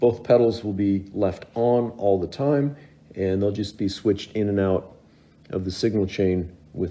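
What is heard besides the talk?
No distinct noise like a dog, phone or traffic.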